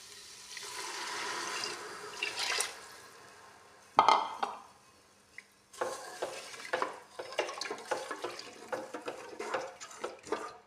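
Hot water is poured into a pressure cooker holding rice and sugar for sweet zarda rice. A near, splashing and sizzling pour comes in bursts with stirring-like clatter, and no voices.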